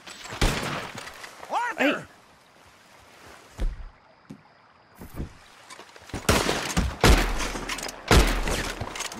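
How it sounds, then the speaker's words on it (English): Gunfire in the game Red Dead Redemption 2 cracks out in several sharp shots and bursts, separated by quieter gaps, with a voice calling out once and game sounds in between. "They're still shooting"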